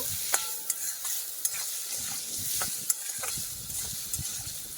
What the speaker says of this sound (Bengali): একটু হলুদ দিচ্ছি দিয়ে এগুলোকে ভালো করে ভেজে নেব